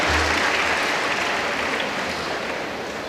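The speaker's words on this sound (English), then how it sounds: "A big round of applause to all the teaching faculty." Graduation day crowd at a medical college applauds the teaching faculty, an even wash of clapping from many hands, fairly loud and slowly tapering.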